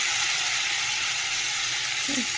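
Fried masala sizzles loudly and steadily in oil in a pan as water is added, a dense hiss with a small burst near the end.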